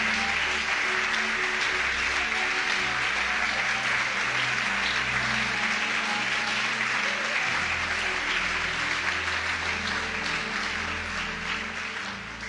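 A church congregation applauding during a service, a dense sustained roar of clapping from a large crowd, loud and continuous throughout, with low music or organ tones underneath.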